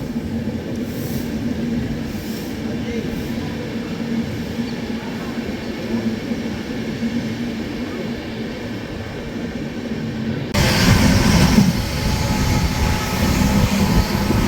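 The Mahakaushal Express departs Raja Ki Mandi station, a steady rumble of rolling rail cars heard from on board that swells louder near the end, with no talk.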